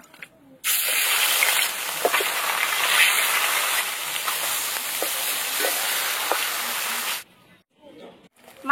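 Fish frying lightly in hot oil, a steady loud sizzle holding for several seconds and then cutting off into near quiet.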